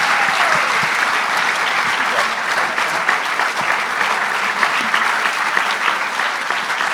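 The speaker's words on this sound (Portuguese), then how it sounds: "Vamos dar uma salva de palmas a eles." Sustained audience applause fills the room steadily and loudly for the whole stretch, with dense overlapping claps at a leadership conference session and no clear speech over it.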